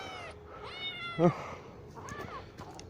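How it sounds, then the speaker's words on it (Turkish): A cat meows repeatedly nearby, several plaintive calls in a row, with a person's soft voice faintly in the background. "Bu benim kedilerden değil arkadaşlar."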